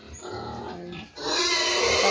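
Close pigs grunt and snort in a short burst, followed by louder, rougher squealing noise.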